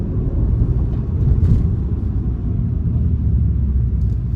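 Deep, constant engine drone and road rumble from inside a moving 2023 BMW M2 in its most comfortable settings, heavy in the low end and steady throughout, with no talking.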